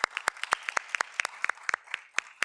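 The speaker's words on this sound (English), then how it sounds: "let's give them a big round of applause." Audience applause at a county board of supervisors meeting: sparse, crisp individual claps from a modest group, rapid and uneven, close and fairly quiet, with no talking.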